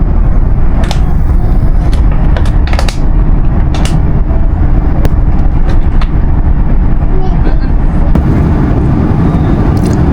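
A loud, constant rumble of a train rolling along, with rattling clicks and bumps scattered throughout.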